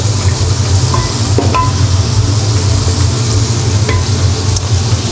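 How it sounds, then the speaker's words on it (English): Steady sizzling of chicken livers frying in a pan, a constant crackling hiss with a few faint clinks, no voices. "We've gently just been frying our livers"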